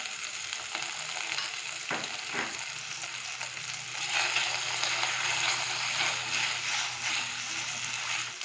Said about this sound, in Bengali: পেঁয়াজ আর রসুনের সাথে একসাথে করে ভালো করে একটু ভেজে নেব